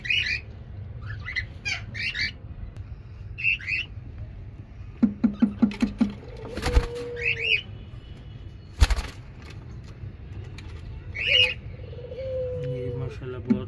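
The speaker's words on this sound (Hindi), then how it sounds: "बहुत ही प्यारा जोड़ा है रिंग नेक का।" A breeding pair of ringneck parrots gives repeated sharp squawks and chattering calls at close range, with a short run of rapid clucking notes midway, heard under intermittent indoor background noise.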